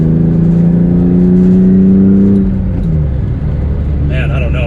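700 hp Lexus IS300 engine revving hard while driving, a loud rising drone that cuts off midway and settles into a lower rumble, with a voice talking over the end.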